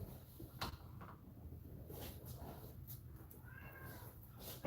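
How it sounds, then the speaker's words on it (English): A cat lets out several loud, drawn-out meows in the early morning, separate wavering cries spaced across the stretch with faint household noise between them. "That's my cat and his battle roars early in the morning."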